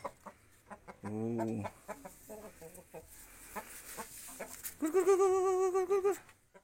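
Bangkok chickens clucking and calling nearby in a backyard coop, short clucks scattered throughout with a couple of longer drawn-out squawks, moderately loud over a quiet background.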